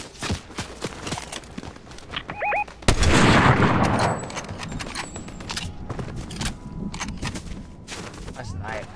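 Sharp video game sniper rifle shots crack out, one loud blast followed by a long noisy tail, mixed with footsteps and other game sounds while a player talks.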